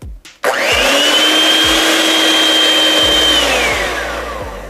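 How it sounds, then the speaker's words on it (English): An electric hand mixer whirs steadily as egg whites are beaten for a coffee Swiss roll, starting abruptly after a click and holding a loud, even motor drone before easing slightly toward the end. "We're gonna work on the egg white. So get your weapon and start beating."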